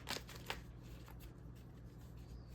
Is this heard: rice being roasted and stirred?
no